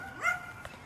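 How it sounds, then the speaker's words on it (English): Dogs bark once briefly in the distance during an outdoor walk, a short yelping burst followed by a faint second yip, with no talking. "Ooh, dogs."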